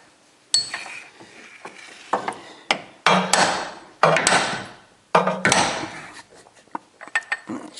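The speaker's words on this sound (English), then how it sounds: "now that axle, we can just gently tap it out" Hammer tapping an axle out of its spline on a rod-change Mini Cooper, a handful of sharp metallic knocks at irregular intervals, close and fairly loud, with small clinks and rattles between blows.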